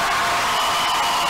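Audience at a Haitian interschool quiz contest, Lycée Henri Christophe versus Lycée Louis Joseph Janvier, applauding the Joseph Janvier team; a brief, steady wash of clapping and crowd noise at moderate level with no distinct voices.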